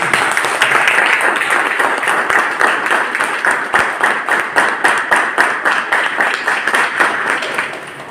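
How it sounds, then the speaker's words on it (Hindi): A training-session audience applauds a trainer in rhythmic unison, loud synchronized claps repeating at a steady beat over a background of scattered clapping that fades slightly at the end. "तो दोस्तों जोरदार तालियां सर"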